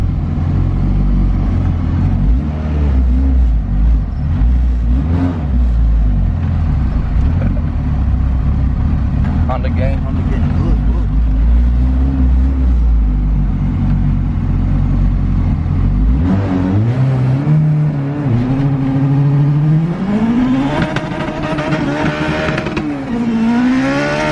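A high-horsepower Honda Civic, boosted with nitrous, roars hard under acceleration with wheelspin, engine loud and droning close inside the cabin before climbing into rising revs, with people talking over it.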